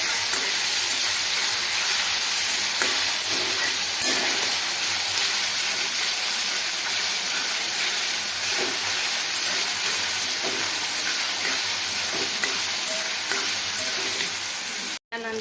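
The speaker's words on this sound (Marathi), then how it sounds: "आपल्याला 2 मिनिटे तरी कांदा टोमॅटो चांगले आपल्याला परतून घ्यायचे आहे." Onion and tomato sautéing in a pan for an eggplant bharit, a steady loud sizzle and frying hiss with occasional stirring scrapes throughout, ending in a sudden cut.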